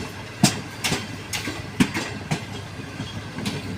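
A passenger train pulls into Lahore railway station at night, its cars giving a series of sharp, irregular clacks and thumps over steady rumbling noise.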